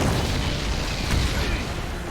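Heavy explosions from airstrikes rumble through a Red Alert 3 battle, a dense run of deep, overlapping booms and bursts that hold at a steady, loud level for two seconds.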